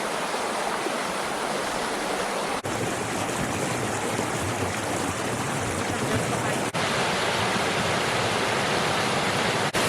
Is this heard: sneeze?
no